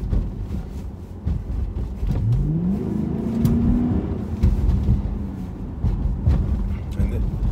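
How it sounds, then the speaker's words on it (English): Engine of a 2011 Dodge Charger R/T with its stock factory exhaust, revving with a rising then falling whine over a steady low rumble, close by, with outdoor noise and some talk mixed in. "But his exhaust actually sound louder than my stock exhaust did."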